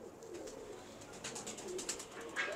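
Pigeons coo faintly in soft repeated notes at a distance, with a light flutter in the background.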